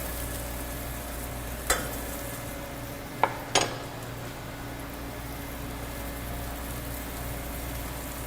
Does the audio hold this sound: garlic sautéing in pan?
yes